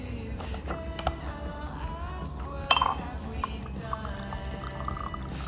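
Green tea poured from a vessel into a cup, with a brief splashy spill and a sharp clink of ceramic, against low background hum and scattered small clatters.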